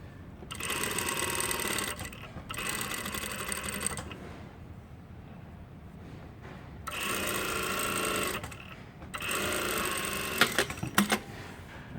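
A sewing machine stitches the side seam of tailored shorts in four loud, steady bursts of a few seconds each, with short pauses between runs and no talking.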